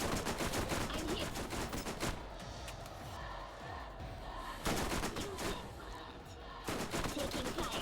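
Gunfire from the Borderlands shooter video game comes in bursts of rapid automatic shots with thuds. A loud volley opens the clip, the firing eases in the middle, and heavy bursts return near the end.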